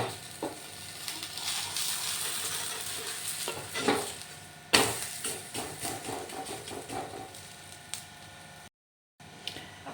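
Carrot paratha batter sizzles steadily in a pan over a medium gas flame, with scraping stir and flipping knocks at intervals and a sharp clack near the middle; no one speaks.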